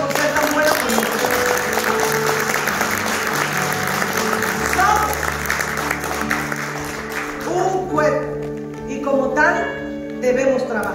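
Church congregation clapping during a Sunday service, a sustained wash of applause mixed with voices and music that fades after several seconds.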